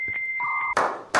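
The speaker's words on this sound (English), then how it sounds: "Where's the beep?" Short electronic beep sound effect: a high steady tone stepping down to a lower tone, followed by two loud bursts of noisy static, all within about a second.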